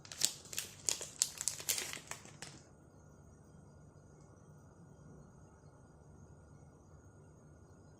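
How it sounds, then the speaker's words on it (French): A small plastic sachet of embossing powder being opened, giving several close, quick crinkling rustles over the first two and a half seconds, then near-silence with a faint steady hiss. "Je vais ouvrir le petit sachet."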